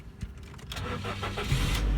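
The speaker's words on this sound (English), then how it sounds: "Start the engine up." A Ford Focus Mk2 engine cranks briefly, then catches and settles into a low, steady idle, heard up close.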